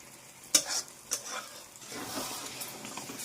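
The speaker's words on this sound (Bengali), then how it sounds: "তারপরে একে হচ্ছে একটু নাড়া আর চাড়া" Boiled mung dal being stirred into fried spices and turmeric in a pan for khichdi, a couple of sharp spatula knocks followed by a soft wet sizzle and scraping, quiet and close with no talking.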